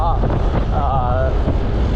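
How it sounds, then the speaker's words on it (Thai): Strong wind buffets the microphone while riding a LION Q2 electric motorbike near Pattaya at night, a steady loud rumbling roar with a faint tonal whine running over it. "ลมแรงมากพอสมควรนะครับ"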